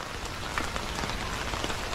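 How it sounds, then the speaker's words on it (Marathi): Heavy rain pours steadily on the way out of a house on a rainy morning, a dense, continuous hiss of drops hitting surfaces, close and fairly loud throughout with no voices. "सकाळपासून खूप पाऊस पडतोय, पाऊस अजून काय थांबला नाही"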